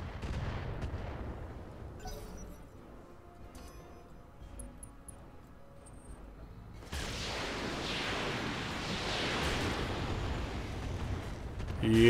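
Heavy gunfire in the Roguepoint video game as a turret is engaged, a burst of dense broadband blasts erupting after a quieter stretch and continuing loud and close to the end.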